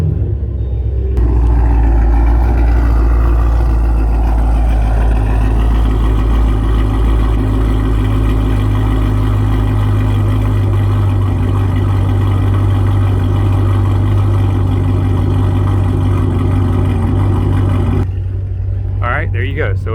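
A 2008 Pontiac G8 with an LS V8, fitted with headers, exhaust and intake, idles with a loud, deep, lumpy rumble that holds steady for most of the clip before cutting off near the end.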